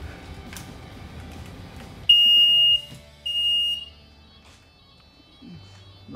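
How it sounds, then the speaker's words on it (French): Delta Dore smoke detector alarm sounding during a simulated fire in a home-automation demo: a loud, piercing high-pitched tone cuts in abruptly, holds for about a second, breaks briefly, then sounds again before stopping, over low room noise. "Le détecteur de fumée, dès qu'il va détecter les premières fumées, il va envoyer un ordre de monter à tous les volets roulants, déclencher l'alarme"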